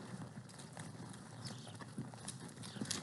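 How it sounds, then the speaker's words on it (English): Several horses walk during a ranch riding drill, their hooves clip-clopping in a loose steady rhythm on the ground, faint and somewhat distant against outdoor background noise. "So remember, Colleen, you're going to want to bring your horse out so that you can pass the other file, left stirrup to left stirrup."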